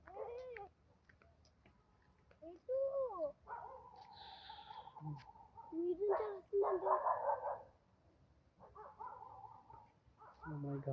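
Several dogs near a house with trees give short, loud barks and whimpers in bursts, with people talking over and between them.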